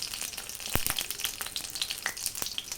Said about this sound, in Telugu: పచ్చిమిరపకాయలు కొంచెం మెత్తబడే వరకు వేయించుకోవాలి.